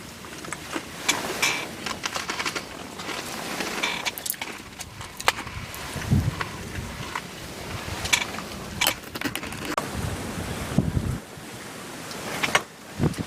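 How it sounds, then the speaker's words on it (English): Strong midday wind during rifle season buffets the microphone in gusty, rumbling bursts, with scattered knocks and rustles throughout and no clear voices. "Wind's really picked up."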